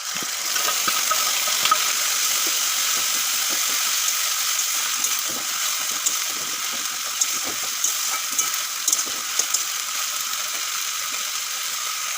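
Grated tomato frying in a pan with onion and ginger-garlic paste for a tilapia curry: a steady, close hiss of sizzling oil with intermittent spatula scrapes and stirring clicks, no talk.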